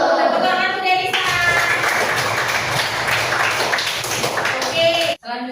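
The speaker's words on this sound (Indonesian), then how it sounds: "Tepuk tangan untuk Delisa" A classroom of young students claps for a classmate who answered correctly. The applause is loud and dense, with children's voices mixed in, and it cuts off sharply near the end.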